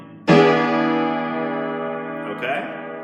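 Piano left-hand part of the beginner tune Lightly Row: a single sustained chord struck near, ringing and slowly decaying, with a second soft chord change near the end.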